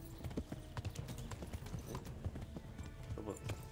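A horse gallops in the medieval game Kingdom Come: Deliverance, its hooves a steady rapid clip-clop close by, faint overall, with someone talking over it.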